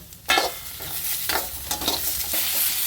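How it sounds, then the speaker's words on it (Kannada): Garlic, raw ginger and cashews fry in a pan while a utensil scrapes through them in repeated strokes, with a steady sizzle running underneath the whole time. "ಬೆಳ್ಳುಳ್ಳಿ ಹಸಿ ಶುಂಠಿ ಇಷ್ಟು ಮಿಕ್ಸ್ ಮಾಡಿ ಹುರ್ಕೊತೀನಿ"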